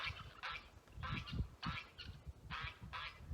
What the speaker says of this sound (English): See, hear the goose? The big old white goose?